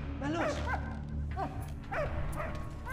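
A dog barks and yips in short bursts in the video game Valiant Hearts, with several sharp calls over a steady low game background hum.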